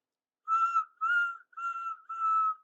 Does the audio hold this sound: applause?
no